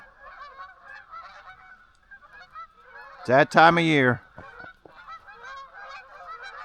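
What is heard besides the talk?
geese honking while flying south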